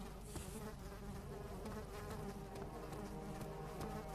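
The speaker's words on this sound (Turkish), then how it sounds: "sinek dolaşıyor peşimde" A fly buzzes continuously nearby in Amnesia: The Dark Descent, a thin droning whine that wavers in pitch as it circles, with faint background sounds underneath.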